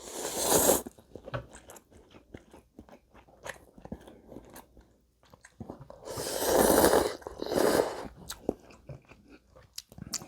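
Someone slurps and chews spicy CU One Piece Luffy burning ramen up close, with loud bursts of noodle slurping and softer wet chewing and breaths between, no speech.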